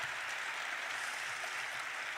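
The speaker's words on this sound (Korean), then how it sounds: "다시 한번 박수 보내주시면 고맙겠습니다" An audience at a UNESCO Korea anniversary ceremony applauds after a rainbow choir performance, a dense, continuous patter of clapping heard from a distance, quiet and unbroken.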